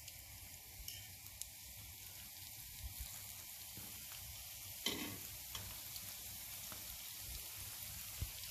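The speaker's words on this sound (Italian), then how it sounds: "Ne friggiamo 3 alla volta." Soft ring doughnuts (ciambelle) fry three at a time in hot oil, giving a steady, quiet sizzle and crackle with occasional louder pops and stirring sounds.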